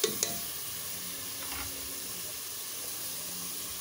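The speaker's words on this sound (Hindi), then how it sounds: "मेरे पास मशीन का कीमा रखा हुआ था 1 पाव तकरीबन, तो ये मैंने डाल दिया इसके अंदर।" Machine-minced meat, about a quarter kilo, sizzling and hissing steadily in a hot pan, with a couple of sharp crackles at the start and then a continuous close frying sizzle with no talk.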